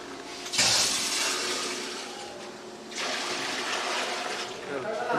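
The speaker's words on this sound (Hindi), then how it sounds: "बर्तन में हम पानी डाल देते हैं चावल बॉयल करने के लिए।" Water pours steadily into a large cooking pot, about six to seven litres for boiling rice for chicken biryani, a continuous splashing rush that swells again midway, with a voice faintly under it.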